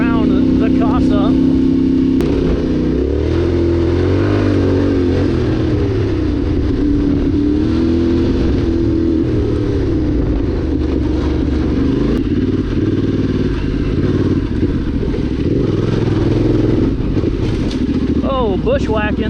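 A Yamaha Tenere 700 rides off-road on a trail, its engine rumbling loudly and changing pitch as the throttle varies, with wind buffeting and occasional clatter throughout.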